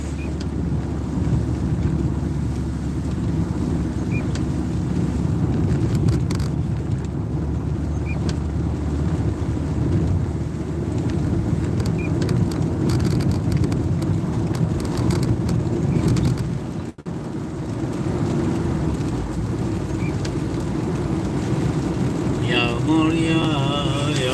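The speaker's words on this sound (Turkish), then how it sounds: "yağmur yağıyor" A steady, heavy wash of rain drums on a surface nearby, with a constant low rumble underneath; a brief dropout near the end, no voices.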